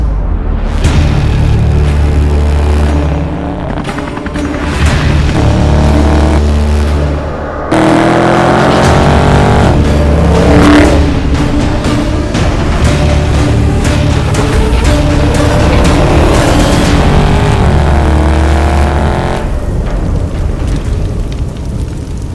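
A Dodge Charger Widebody with the 392 engine roars through loud, sustained revs, rising and falling in pitch, close up and continuous with no talk.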